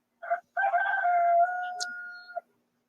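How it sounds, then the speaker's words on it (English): A rooster crows just outside a window, one long drawn-out cock-a-doodle-doo rising and holding before tailing off, loud and close, with a short call before it and a faint bird chirp midway. "There's my rooster. I don't know if you can hear him. He's sitting right outside my window."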